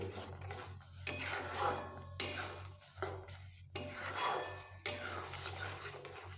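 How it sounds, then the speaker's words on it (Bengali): A spoon scraping and stirring mashed ridge gourd in a metal pan, in distinct rubbing strokes about a second apart with brief pauses and light clinks, fairly quiet and close, with no voices. "এইভাবে এখন আমি নাড়তেই থাকবো বেশ কিছুক্ষণ"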